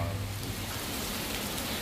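Heavy rain pours down at a monastery, a steady dense hiss of water that fills the short stretch evenly with no voices or breaks.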